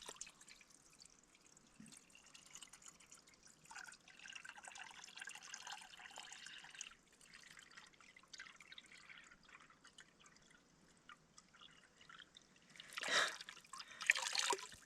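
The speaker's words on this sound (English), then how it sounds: "it would take around 5 to 10 minutes to bring a 4-liter jug full" Spring water trickles and drips faintly into a 4-liter jug at a winter bushcraft campsite, a thin steady splashing that swells briefly near the end.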